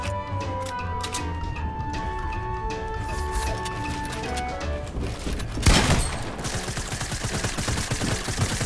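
Rapid bursts of gunfire in Fortnite Battle Royale break in sharply partway through, loud and dense, following a stretch of tonal game music and effects.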